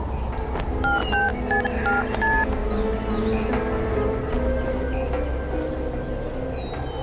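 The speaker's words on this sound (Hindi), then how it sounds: "फोन करती हूँ।" A push-button telephone is dialed in a quiet room, a quick run of about seven distinct keypad tones in an uneven rhythm, followed by a steady background hum with no talking.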